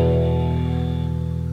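An electric guitar sustains a chord from a section of a song, ringing out loud and clear and slowly decaying over about a second and a half, with no voice.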